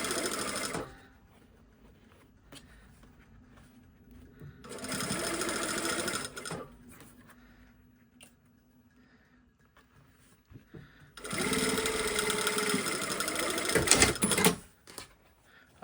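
Sewing machine stitching pocket bags, running in two close, steady bursts of several seconds each, separated by quiet handling of fabric.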